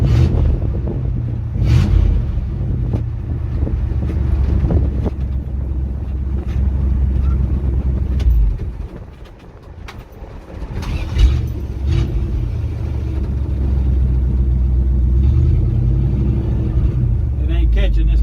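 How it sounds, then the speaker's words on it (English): A 1971 Dodge D100 pickup rolls along at about 35 mph with a loud, steady engine and road rumble and wind buffeting. The noise briefly dips midway, and people talk over it. "Speedometer quieted down. We're doing about 35."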